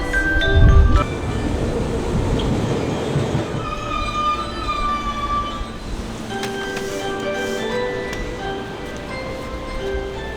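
A passenger train running through rural Japan, a steady rumbling roar with rattling carriage noise and faint high wheel squeals, heard close from inside or beside the cars.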